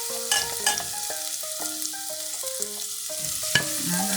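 Garlic and onion fry in a pan for a pork dish with green peas and potato, giving a steady, fairly loud sizzle with scraping stirs, while music with a clear melody plays throughout.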